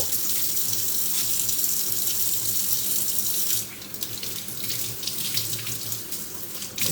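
Hands are washed under a running kitchen or bathroom tap. The water gushes loud and steady, then its tone shifts midway as the hands break the stream and splash. No voices are heard.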